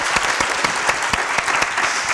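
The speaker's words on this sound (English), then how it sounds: "All right, let's give a round of applause to KK and Isabel." A studio audience claps for musical performers on a Nashville singer-songwriter show, giving brisk, close applause with distinct individual hand claps over a steady wash.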